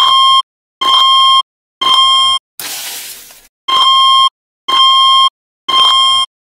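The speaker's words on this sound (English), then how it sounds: "The fucking fire alarm goes off again" A campus dormitory fire alarm blares in loud, evenly spaced electronic beeps, seven pulses with a brief burst of noise in the middle, and no voices.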